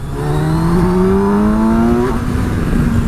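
Kawasaki Versys 1000 motorcycle engine revving hard, a loud close rising tone that climbs steadily, briefly dips as it shifts, then holds and rises again, with no talking over it.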